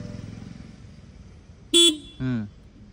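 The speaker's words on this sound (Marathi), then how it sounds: "हॉर्नचं बटन दाब" Horn of a two-wheeler being driven by a new rider, two short beeps close by, the first sharp and bright, the second lower and slightly longer, over faint idle and background noise.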